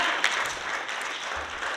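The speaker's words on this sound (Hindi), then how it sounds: "तो भैया तालियां लगाइए इनके लिए" Brief burst of audience clapping at a business presentation in Delhi, a short steady patter of many hands.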